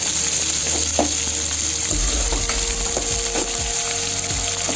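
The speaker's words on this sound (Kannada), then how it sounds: "ಈರುಳ್ಳಿ ಹಾಕ್ಕೊಂಡ್ಮೇಲೆ ಸ್ವಲ್ಪ ಚೆನ್ನಾಗಿ ಕೆಂಪಗಾಗೋವರೆಗೂ ಫ್ರೈ ಮಾಡ್ಕೊಳ್ಳೋಣ ಈರುಳ್ಳಿನ." Chopped onions frying in hot oil for avalakki uppittu, a steady close sizzle throughout with occasional scraping stir strokes and soft clinks, no talking.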